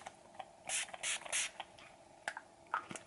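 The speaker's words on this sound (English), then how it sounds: "once I've done my skincare, I always do a mist" A face mist spray bottle pumped in a handful of short hissing bursts, close and fairly quiet, with faint clicks between sprays and no talking.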